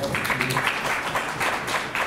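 An audience at a stand-up comedy show breaks into applause, a dense, continuous patter of many hands clapping at moderate volume through the whole stretch.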